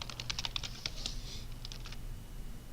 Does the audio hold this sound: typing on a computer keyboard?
yes